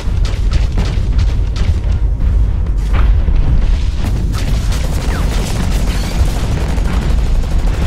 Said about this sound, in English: Beautiful rocket, beautiful.